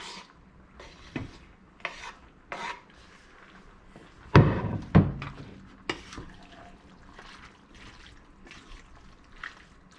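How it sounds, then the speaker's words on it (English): Chili with chopped tomatoes being stirred in a pot, wet scraping and squelching strokes with a louder burst of stirring midway, close and fairly quiet with no one talking. "we're gonna give that a good stir"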